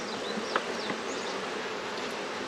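Honey bees swarming around an opened hive during a honey harvest: a dense, continuous buzzing drone with individual bees zipping close past, steady and fairly loud throughout, with no talking.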